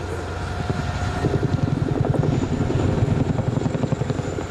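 Boeing Chinook HC4A twin-rotor helicopter of the Royal Air Force performing a flying display at the ILA 2016 Berlin air show, its loud, steady rotor thump and engine roar filling the air continuously without speech.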